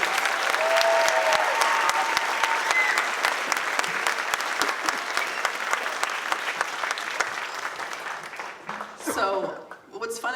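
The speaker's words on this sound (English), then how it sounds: "So can we give them a huge round of applause?" An audience applauds an honor band in a large hall, with dense, sustained clapping that fills the room and tapers off near the end.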